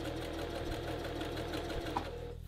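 Sewing machine running steadily while stitching a seam on a men's dress shirt, a loud, continuous mechanical whir with a fast needle rhythm, close up, with brief dips in pace and a stop near the end.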